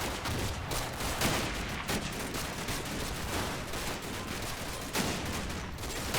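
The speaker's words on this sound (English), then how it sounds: "explosions and everything, they're really putting some heavy fire on here" Heavy gunfire and explosions from the Normandy World War II combat game Combat Mission: Battle for Normandy form a dense, continuous barrage of overlapping rifle and machine-gun fire with deeper booming blasts, loud and unbroken throughout, with no speech.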